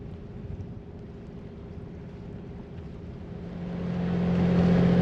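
A sailboat motors along at sea on a wet, rough day, its engine a low steady hum that swells gradually louder toward the end, with no talking.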